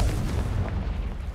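A deep, rumbling blast from the Confringo spell in Hogwarts Legacy, a single heavy boom that lingers briefly.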